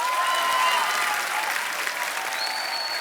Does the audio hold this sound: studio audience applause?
yes